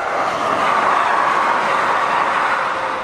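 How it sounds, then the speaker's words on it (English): A train rumbles past in a continuous loud roar of wheels and rails, steady throughout, with no voices. "Trains are loud."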